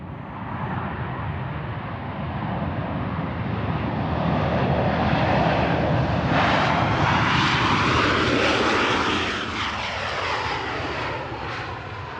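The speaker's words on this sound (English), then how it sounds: "a firm landing" Fixed-wing airliner landing at Manchester Airport, a loud, sustained engine roar that swells toward the middle as the plane passes close, then eases into a steady rumble, heard alone.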